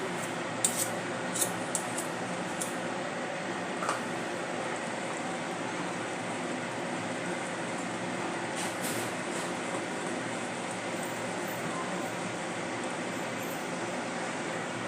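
Electric hand mixer beating chocolate cake batter, a steady whirring hum that runs the whole time at even loudness, with a few brief clicks and knocks early on and no talking.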